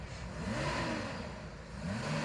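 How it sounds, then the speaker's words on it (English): A Ford Granada's engine revs in the background, a steady mid-pitched drone that swells and falls through the clip with no talk over it. "That in the background is Mr. Coleman revving his Granada"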